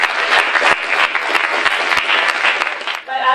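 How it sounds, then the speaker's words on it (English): An audience applauds a speaker with loud, dense, steady clapping that carries through the clip and tapers off at the end. "So let's give her a round of applause."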